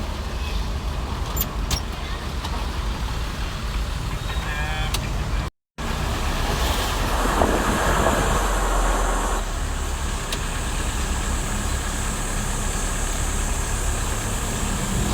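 Steady road traffic rumbles past, cars and trucks with engines droning and idling in a continuous close wash of noise, briefly cut out once, with no talk over it.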